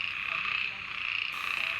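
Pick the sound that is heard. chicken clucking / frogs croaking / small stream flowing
frogs croaking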